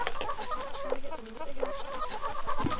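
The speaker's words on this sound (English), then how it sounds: "The chickens see us coming, so they're pretty excited right now." Several chickens cluck and chatter close by in a busy, excited run of short calls with no clear speech.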